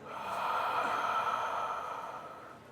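A long, breathy exhale during a guided breathing warm-up, a soft airy rush swelling quickly and then slowly tapering over a few seconds, heard alone and close.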